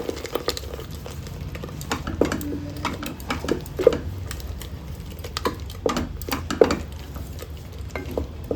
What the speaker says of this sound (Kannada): ನಾನಿಲ್ಲಿ ಮಸಾಲೆನ ಫ್ರೈ ಮಾಡ್ಕೊಳ್ತಾ ಇದ್ದೀನಿ.